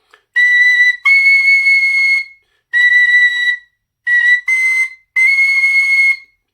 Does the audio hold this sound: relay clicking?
no